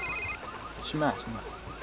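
An old telephone rings in a short electronic burst at the start, quickly cut off, followed by a voice talking nearby in a room.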